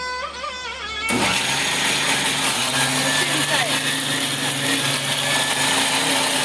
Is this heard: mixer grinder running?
yes